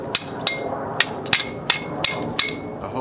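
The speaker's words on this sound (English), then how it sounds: "Get you a chipping hammer." A steel chipping hammer knocks slag off a weld on a metal wall cross, giving seven sharp, ringing taps at a steady pace, close and alone.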